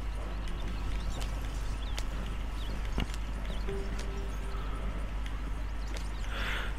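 Steady clip-clop of horses' hooves over a constant low rumble, with a brief tonal whine midway and faint higher sounds near the end, from the video game Red Dead Redemption 2.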